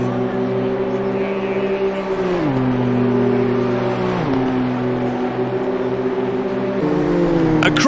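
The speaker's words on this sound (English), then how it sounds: "Onto the main straight now and full throttle towards the line to complete the lap." A BMW M2 CS race car howls at full throttle down a circuit's main straight during qualifying, its loud engine note climbing steadily with quick drops at each upshift, close and continuous over commentary-level background.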